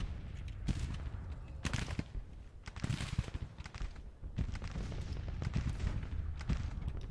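Muffled battlefield fire in the Civil War-era strategy game Grand Tactician, with repeated dull gunshot and cannon-like volleys at a distance in a rumbling, irregular rhythm.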